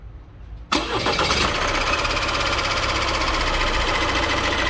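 An Opel Astra K car engine cranks and catches, then settles into a loud, steady idle with a rattling, ticking clatter from a badly worn timing chain running through it.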